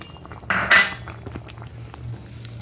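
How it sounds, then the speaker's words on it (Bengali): Fried lentil dumplings (bori) being stirred in a cooking pot with ghee make a brief scraping, clinking burst near the start, followed by faint rattles and a low steady hum. "বড়িগুলো দেওয়ার পরে মিশিয়ে নিয়েছি খুব ভালো করে"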